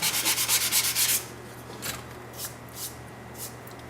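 A wooden piece is sanded by hand with a quick run of rhythmic rubbing strokes, loud and close for about a second, then a few fainter, scattered scrapes follow.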